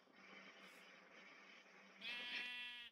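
A sheep bleats in Minecraft, one short, clear bleat near the end over a faint background hum.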